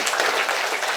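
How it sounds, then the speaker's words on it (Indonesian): An audience at a motivational talk breaks into brief applause, a short dense burst of clapping. "Tepuk tangan dulu."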